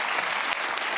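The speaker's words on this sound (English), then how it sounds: "I understand your applause was slightly confused there" Studio audience applause on a panel comedy show, a dense steady wash of clapping filling the whole second at moderate level with no voices over it.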